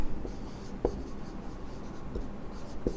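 Writing on a board during a chemistry lecture makes faint scratchy strokes and a few soft taps against a low room hum.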